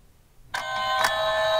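A Halloween decoration doorbell rings with a sudden bright chime that sustains and swells, a second struck note arriving about half a second later, clear and close.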